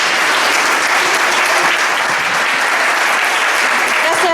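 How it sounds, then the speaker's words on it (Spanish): Loud, steady audience applause thanking a guest speaker at the close of a science talk event, a dense continuous wash of clapping that fills the whole stretch with no break. "agradecer con un fuerte aplauso a Alejandro por acompañarnos"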